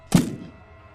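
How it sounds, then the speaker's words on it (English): A single dull thump of a boot striking wooden floorboards inside a house near a basement door, sharp at first and then fading into a quiet room. "It's the sound of a boot hitting the floorboards."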